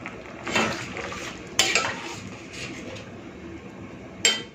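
Potol malaikari, a pointed gourd curry, being stirred and mixed in a pan: a few quiet scraping and clinking strokes of a utensil against the pan, spaced apart against a soft background.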